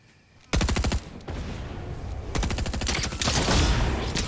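Submachine gun fire in a shooter game: several loud, rapid full-auto bursts crackle close by, separated by brief gaps, alone without talk.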